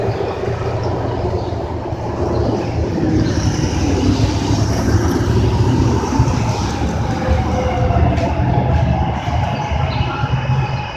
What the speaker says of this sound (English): Train somewhere coming in fast,